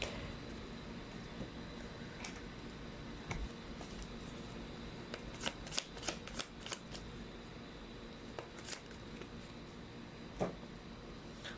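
A deck of tarot cards is shuffled up close with soft riffling, then a cluster of sharp card snaps and flicks in the middle. It is quiet overall, and no one speaks.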